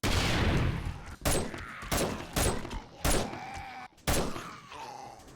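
Grenade blasts go off in 7 Days to Die, several loud close bursts separated by short gaps, with low groaning and tonal moans from zombies between the explosions.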